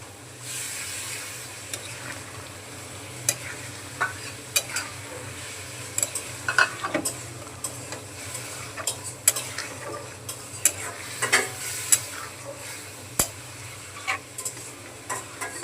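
Slit green chillies and turmeric sizzle in hot oil in a pan for a Bengali lentil dal with bottle gourd, with steady frying hiss and frequent sharp clinks and scrapes of a spoon stirring against the metal.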